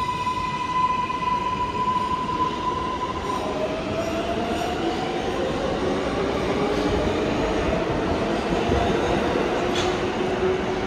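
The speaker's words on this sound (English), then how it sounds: "Right now I'm at the 42nd Street Grand Central Subway Station." A subway train runs through the 42nd Street Grand Central station in New York, a loud, continuous rumble of wheels with long high squeals and whining tones rising and sliding across the track, no voices.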